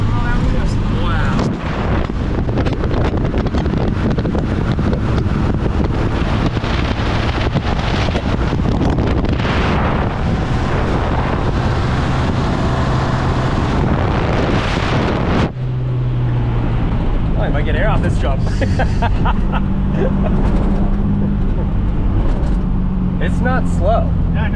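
A classic Sunbeam Alpine sports car driving with the windows down, steady engine and road noise with heavy wind buffeting throughout, people talking over it.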